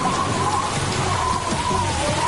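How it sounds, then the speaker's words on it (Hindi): Dense, steady rainfall on Vancouver Island patters continuously on surfaces nearby, an even wash of drops with no voices. "यहाँ इस वैंकूवर द्वीप पर इस समय मुझ पर बारिश गिर रही है"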